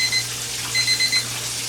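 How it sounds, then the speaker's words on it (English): A kitchen timer goes off while chicken fries, giving short repeated high electronic beeps in quick bursts over a steady low hum, close by and fairly loud. "My timer's going off on my chicken"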